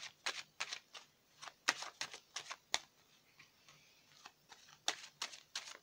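Tarot cards are shuffled close up in short, crisp riffling bursts with quiet gaps between them, a soft rhythmic flutter that stops and restarts several times.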